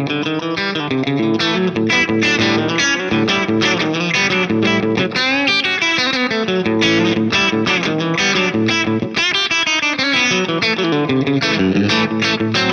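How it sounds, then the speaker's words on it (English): Electric guitar run through a Keeley Aria compressor-overdrive pedal with mag echo slapback, playing a continuous, loud chordal and melodic passage with short repeating echoes and no talking. "Mag echo on now for some slap back."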